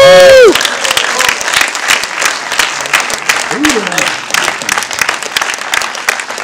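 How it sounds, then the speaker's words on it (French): Audience applause for the falconer at a team presentation of a docu-fiction film, steady, close and dense clapping that carries on throughout, with a voice speaking briefly over it at the start. "Ah ouais, merci de l'applaudir."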